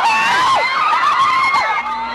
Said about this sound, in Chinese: 粉丝马上失控，尖叫声几乎没停过